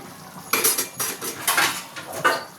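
Chicken keema curry stirred in a metal pan, a utensil scraping and clattering in quick, close bursts, then the knock of a lid being set on top, with no voices.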